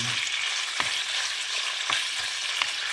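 Chicken pieces frying in a pan for buffalo chicken, a continuous close hissing sizzle with a few soft knocks and shifts of the pan, no voices.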